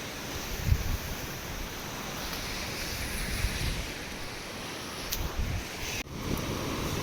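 Sea waves wash steadily onto Kelus beach under gusty wind buffeting the microphone, a continuous moderate roar of surf with no talking.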